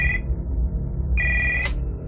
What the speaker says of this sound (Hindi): मेरा फोन फिर से बजा